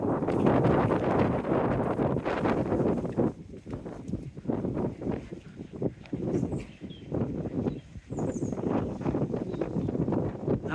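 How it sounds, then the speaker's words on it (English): Strong wind sweeping along the seafront at Teignmouth by Mules Park and the seawall, loud gusty roar buffeting the microphone in waves that rise and ease, with no voices. "Good job it wasn't windy like this when Norman was filming."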